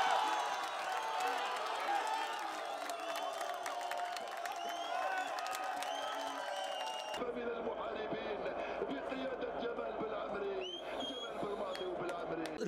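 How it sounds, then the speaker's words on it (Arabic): A large crowd in Gaza celebrates Algeria's Africa Cup of Nations football win: a dense outdoor roar of cheering, chanting and whistles carries on throughout, with someone speaking up close over it. "حبيت اني اكون في وسط هذه الجماهير التي تشجع منتخب الجزائر"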